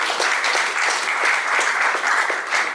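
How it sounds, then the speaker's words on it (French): Loud, dense audience applause at a French-speaking book launch event, continuous and close for nearly three seconds before cutting off abruptly. "nous pouvons applaudir"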